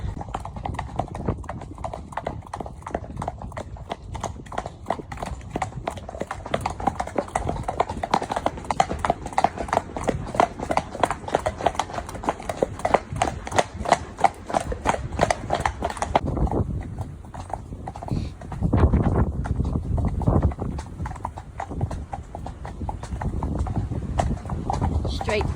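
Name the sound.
horse hooves clip-clopping on a hack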